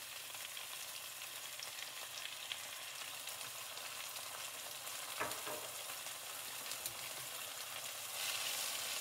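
Steaks and onions sizzle in a pan with Worcestershire sauce, a constant soft frying hiss with a few faint scrapes as the food is stirred. No one speaks.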